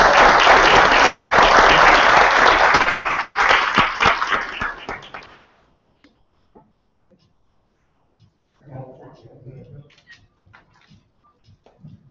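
Audience applause at a bootcamp training event, loud dense clapping for about five seconds that stops abruptly, followed by a quiet stretch with faint scattered sounds and a few murmured voices.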